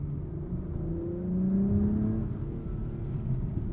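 A 2021 Acura TLX Type S with all-wheel drive accelerates hard out of a corner, its engine note climbing steadily and rising in pitch, heard from inside the cabin with no talking.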